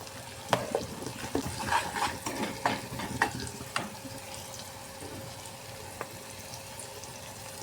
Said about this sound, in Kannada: ಇದನ್ನೆಲ್ಲನೂ ಮಿಕ್ಸ್ ಮಾಡಬೇಕು ರೀ ಈ ಥರ ರೀ